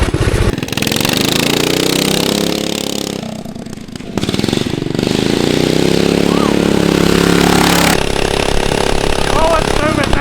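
Mini bike fitted with a large flea-market engine revs hard and pulls away, a loud buzzing drone rising and falling in pitch with a brief dip midway, while people shout excitedly over it.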